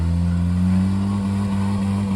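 A Tata Nano car's small engine drones steadily while climbing off-road, with a strong, close, continuous hum that wavers slightly in pitch, and no talking.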